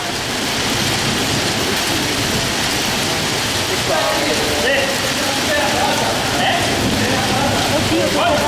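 Steady, dense rain falling outdoors, a continuous loud hiss of drops on surfaces throughout, with voices talking over it.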